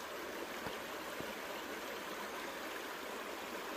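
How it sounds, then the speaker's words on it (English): Water swirled and shaken in a gold pan with black sand and quartz gravel at Pennsylvania Creek, a faint continuous wash with soft sloshes. "Get a little water in there, shake it all back."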